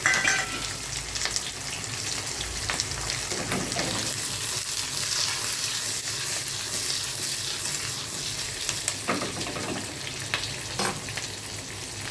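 Chillies and tomatoes frying in oil for a raw tomato and chilli sambharo, producing a continuous, close, crackling sizzle with faint stirring and no voices.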